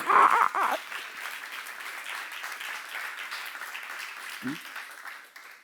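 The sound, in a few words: audience applause in church seminar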